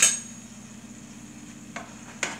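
Sausages frying in a pan give off a steady, soft sizzle that stays fairly quiet throughout, broken by two brief utensil clicks near the end.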